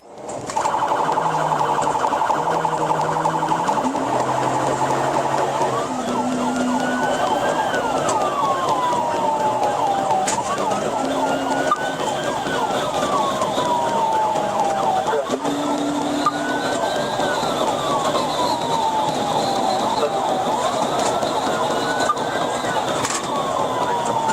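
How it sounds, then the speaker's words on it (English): A police siren cycles through repeated rising and falling wails during a high-speed chase, loud and continuous, with a low two-tone horn underneath at the start. "The officers quickly activated their emergency lights and sirens to pull the vehicle over"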